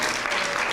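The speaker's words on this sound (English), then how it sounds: "You can clap now." An audience at a school Veteran's Day program claps together, a loud, dense burst of applause that holds steady throughout.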